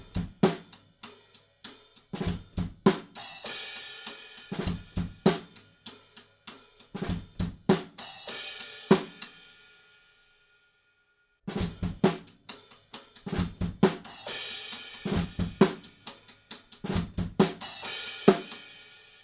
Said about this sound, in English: In the quiet little rim click section, there's maybe one extra crash cymbal, so that would sound like this.